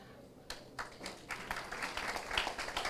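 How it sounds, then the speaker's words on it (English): An audience claps at a new students' orientation at a Caribbean maritime university, beginning after a short quiet moment and growing into scattered, uneven applause that builds toward the end. "please give them a round of applause"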